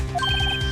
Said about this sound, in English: I heard a phone ring just now, one of those newfangled ringtones.